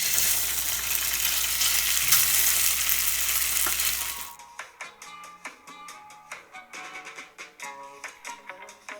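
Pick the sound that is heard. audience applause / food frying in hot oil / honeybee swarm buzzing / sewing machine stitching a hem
food frying in hot oil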